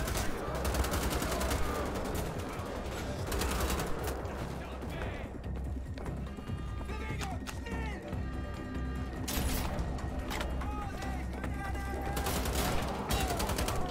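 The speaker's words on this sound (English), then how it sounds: "Ooh, what, who's shooting?" Gunfire rattles through a Wolfenstein: The Old Blood firefight in rapid bursts over continuous game noise, with a voice talking at times.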